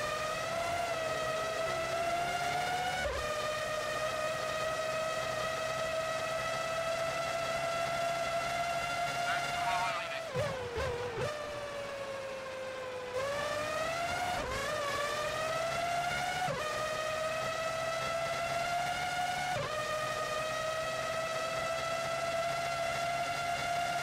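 Formula One race cars scream around the track in Formula One 03, a high, sustained engine whine rising and falling with gear changes, several cars passing in turn with sharp pitch shifts.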